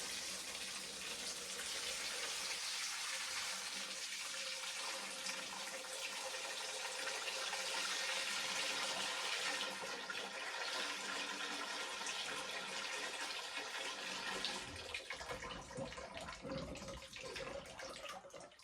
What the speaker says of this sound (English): So I'm just going to take these carrots and give them a quick little soak and a rinse.